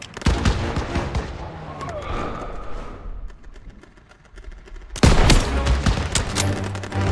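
Sustained gunfire from rifles and machine guns in a World War II shooter video game, loud dense bursts that dip briefly then surge again, with faint shouted voices mixed in.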